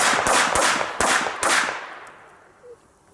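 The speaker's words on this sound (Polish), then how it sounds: "Wszystkie pięć wybuchło, to jest naprawdę rzadko się spotyka w petardach." Four sharp Triplex Volt firecracker bangs go off in quick succession, each with a crackling echo that fades away into near silence.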